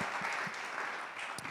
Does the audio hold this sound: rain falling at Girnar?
no